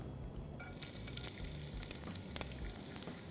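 Chopped ginger dropped into hot oil, a sizzle that jumps up suddenly after a quiet moment and keeps crackling close by, with a few sharp pops scattered through.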